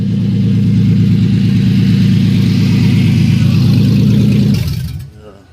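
A truck engine runs with a steady, loud low rumble close by for several seconds, then cuts off and falls quiet.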